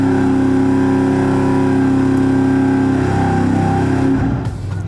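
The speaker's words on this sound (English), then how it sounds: "it sounds like it has a little bit of a misfire" A carbureted-versus-fuel-injected test engine with EFI runs loud and steady at high revs, a slightly uneven, misfiring note droning close up before it drops off and tails away at the end.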